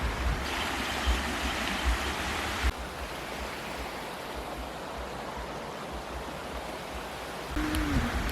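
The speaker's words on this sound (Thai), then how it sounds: "ข้างหน้าเป็นลำธารแบบ นี้เลย" Steady rushing flow of a stream at a campsite in Khao Yai, a continuous close wash of water filling the whole stretch, with no talk over it.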